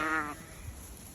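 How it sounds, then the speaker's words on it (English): A single sheep gives one short, fairly loud bleat as the flock is let out to a second grazing area on a farm, followed by quiet rustling ambience. "I'm letting my sheep out to a second area to graze in"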